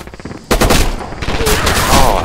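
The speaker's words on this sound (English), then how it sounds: "I shot a dead body" Gunfire in the Rising Storm/Red Orchestra 2 winter forest map, a loud sustained volley of rifle and machine-gun shots starting abruptly and continuing with layered battle noise and a faint voice underneath.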